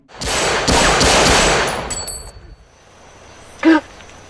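A rapid burst of loud gunfire rattles for about two seconds, then fades, followed by a single sharp metallic clang.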